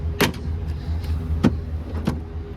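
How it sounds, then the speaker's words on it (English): A 2025 GMC Sierra 2500 HD tailgate swings shut and latches, with a sharp clunk followed by two lighter clicks as the lock mechanisms engage over a low idling hum. "if you want to close up the tailgate"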